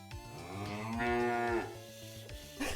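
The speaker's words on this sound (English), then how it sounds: "Not the moo, Mr. Zombie." A cow moo sound effect plays in a 2.5D zombie roguelike game being built in the Godot engine: one long, deep, drawn-out bellow, moderately loud and close, with no talking over it.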